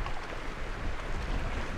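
Steady roaring strong, gusty wind outdoors buffeting the microphone, a dense low rumble with slight surges throughout, no voices.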